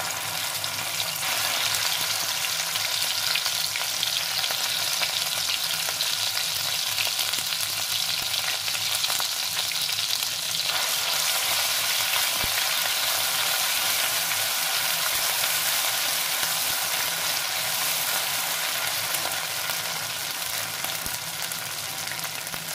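Onion and tomato paste sizzles steadily in hot oil with cumin seeds, a close, dense crackle that holds at an even loudness from start to finish, with no voices.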